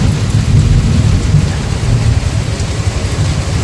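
Heavy monsoon-style rain pours down in a loud, steady roar with a deep low rumble of thunder underneath, continuous throughout and close to the listener.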